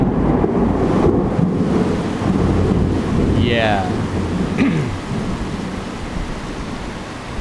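Thunder rolls during a Bangkok thunderstorm, a loud deep rumble over steady heavy rain, with a brief spoken word and a passing high whine partway through.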